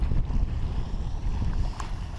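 A sailboat under way in steady wind on Lake Erie with small whitecap waves, a continuous low rush of wind and water washing against the hull, with no voices.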